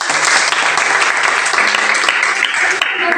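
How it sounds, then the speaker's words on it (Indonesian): Students in a junior high school classroom applaud together, a loud, dense and sustained burst of many hands clapping close by that runs without a break, with no talking. "Berikan tepuk tangan kita."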